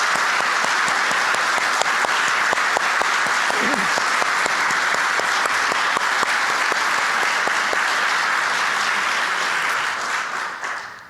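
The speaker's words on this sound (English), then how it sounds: "Can we give her another round of applause?" Sustained audience applause from a crowd at an interfaith symposium, dense steady clapping that holds loud for about ten seconds before tapering at the end.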